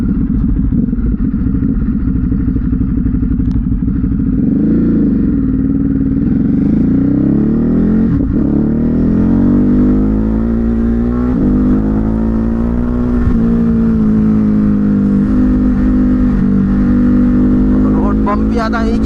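A Ducati motorcycle with a new aftermarket exhaust hums steadily at speed on a country road, engine pitch rising and falling with throttle changes, loud and close throughout with no pauses.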